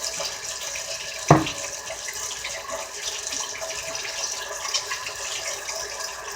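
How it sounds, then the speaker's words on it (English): Hot tap water runs steadily into a sink while hands are washed, a continuous close splashing stream with one sharp knock early on. "First thing you gotta do is wash them. I'm gonna do that right now. I always use hot water."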